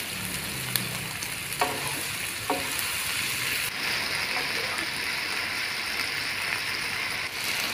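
Kikil (beef skin) and spices sizzle and fry in a pan, with a steady hiss throughout and a few scraping stirs of a spoon near the start, no talking.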